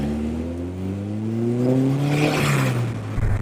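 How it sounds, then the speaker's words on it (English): A 500 kg MK Indy race car with a Honda S2000 engine revs hard, its rising harmonic engine note climbing steadily, loud and close, with some wind buffeting toward the end. "If you can't tell from the sound of the car, this is powered by a Honda S2000 engine"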